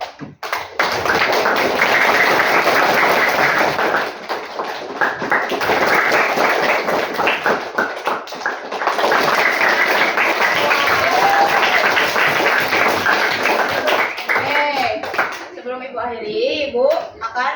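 Seventh-grade students clap in unison in a school classroom, two long bursts of dense clapping separated by a short dip, with voices mixed in and speech taking over at the end.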